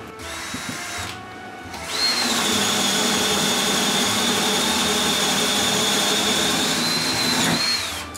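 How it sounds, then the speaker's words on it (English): A power drill whines at a steady high pitch for several seconds after a brief start, loud and close, boring a spade bit into a 2x4 wood board. "I'm using a 2x4 and I'm trying to drill in with my spade bit"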